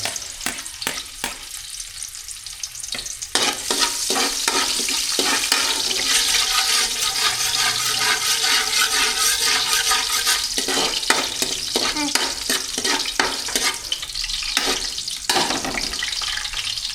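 Garlic sautéing in a pan, a loud, dense sizzle that swells after a few seconds and carries on with quick scraping strokes of a utensil throughout, close up and without speech.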